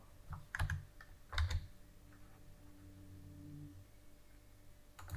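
A few computer keyboard keys are pressed, with sharp clicks in a small cluster near the start and another at the end, faint over a quiet room hum.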